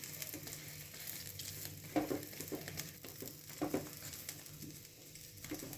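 An aloo paratha sizzles in a hot pan, its steady frying hiss continuous and close, broken by two brief sharper crackles or scraping touches as it is turned and pressed.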